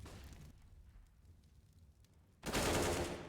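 Gunfire during a Counter-Strike pistol round on the map Inferno: a muffled burst is followed by a quieter stretch, then a loud, dense volley of close shots near the end.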